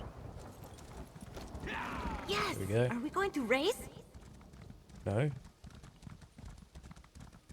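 Horse hooves clip-clop at a steady gallop in the video game Elder Scrolls Online, a rhythmic patter running beneath a man's loud, animated talking throughout.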